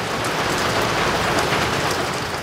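Heavy rain pours down in a dense, loud, unbroken hiss, close and steady throughout, with no voices.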